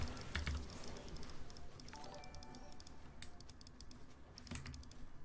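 Rapid computer keyboard typing during a League of Legends game as Pyke, with quick clustered key clicks, close and fairly soft, alone with no talk.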